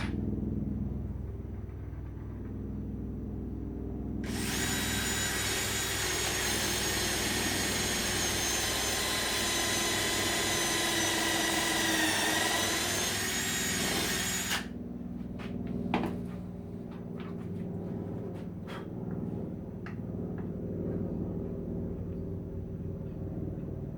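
Power drill boring holes into wood for a bench, a loud continuous whine lasting about ten seconds, followed by quieter clicks and knocks of handling.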